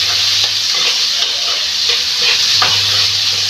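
Onions with a little salt sizzling in hot oil in a pan while preparing Tamil chickpea sundal, a loud steady hiss and crackle close by, with occasional scrapes and stirs of a spoon, no talking.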